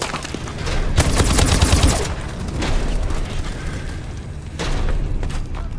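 Rapid gunfire from an inaccurate gun in Call of Duty: Advanced Warfare multiplayer, loud close bursts with a heavy volley early, another burst mid-way and a final burst near the end.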